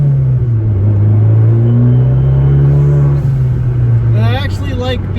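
A car exhaust rumbles steadily and loudly while driving, a deep continuous drone with slight pitch shifts, heard from inside the cabin, with a voice briefly heard near the end.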